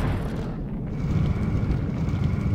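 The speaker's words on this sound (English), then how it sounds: "I'll just keep spamming Armageddon for now." Armageddon spell blasts in King's Bounty Dark Side, a deep rumbling roar of explosions that swells and keeps booming continuously, loud and low-heavy with no talk over it.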